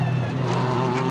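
A Ferrari 488 GT3 race car's turbo engine drones loudly and steadily at high revs in a single brief burst that cuts off abruptly at the end.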